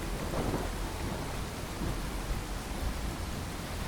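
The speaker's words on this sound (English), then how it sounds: "Oh great, we got a rad storm." A radiation storm in Fallout 4 brings steady, dense rain with a continuous rumbling roar of thunder, loud and unbroken throughout.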